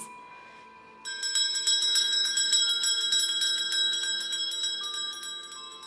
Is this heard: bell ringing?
yes